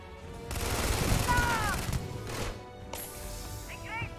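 A loud, rapid volley of gunfire rings out in the Starfield video game, followed by scattered shots and ricochet-like whines, with a voice briefly heard among the shooting.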